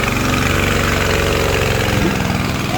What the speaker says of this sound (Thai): วันนี้ก็มีเรือ ชาวบ้าน ไปทำงานวิ่งไปวิ่งมาก็จะมีเสียงเครื่องเรือครับ